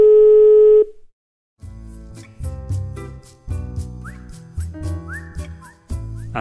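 A steady telephone tone sounds loudly for under a second, then cuts out and gives way to a busy stream of music and electronic effects.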